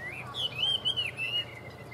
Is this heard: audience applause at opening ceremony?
no